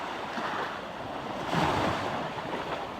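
Ocean waves wash onto a free public beach in Port Antonio, Jamaica, a steady nearby surf roar with light wind buffeting, swelling slightly midway, and no voices.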